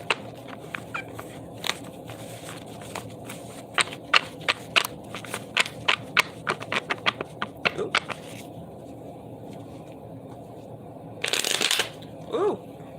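Tarot cards being shuffled by hand in repeated riffling bursts, crisp flicking clicks building quickly and then easing off, followed by a brief louder rustle near the end.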